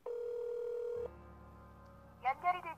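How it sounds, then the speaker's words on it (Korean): A telephone ringback tone sounds on an unanswered call: a steady tone for about a second, then a lower buzzing hum. A voice enters briefly at the end. "한참 신호가 갔지만 제이는 받지 않았다"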